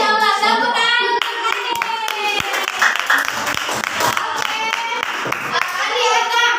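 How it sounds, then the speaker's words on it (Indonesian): Children in a classroom clap together during a lesson, sharp hand claps forming loose bursts at close range while young voices chatter and call out over them, with a tonal sound running through the background. "tepuk tangan untuk"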